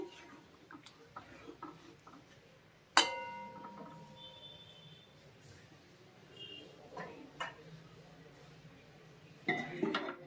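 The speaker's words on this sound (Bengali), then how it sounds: "নাড়িয়ে নিচ্ছি" Egg curry with garam masala stirred in a pot: a sharp metallic clink near the start, then scattered scrapes and taps of a spoon against the pot, with a brief clatter at the end.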